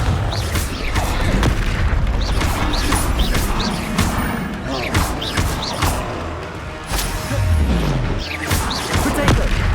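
Confringo fire spell blasts in Hogwarts Legacy burst repeatedly amid combat, a string of sharp, crashing impacts and booms layered over a busy, continuous wash of battle noise.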